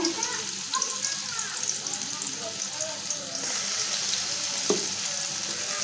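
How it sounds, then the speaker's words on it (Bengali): Onions sizzle and fry in a pan with a steady crackling hiss and occasional scraping stirs, heard close up with no talking. "তো আমি পেঁয়াজটা একটু বাইজা নিমু"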